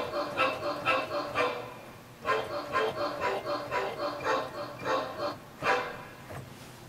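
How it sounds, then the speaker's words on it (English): Sampled dog barks are played as notes on a Line6 Mobile Keys 49 keyboard, tapping out the tune of Twinkle Twinkle Little Star. The barks come in a rhythmic run at shifting pitches, with a short pause midway. "So I'm using the bark. So I'll do Twinkle Twinkle Little Star."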